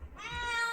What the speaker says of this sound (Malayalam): പൂച്ചകൾ മനുഷ്യനോട് ആശയവിനിമയം നടത്താനാണ് മ്യാവ് ശബ്ദം ഉപയോഗിക്കുന്നത്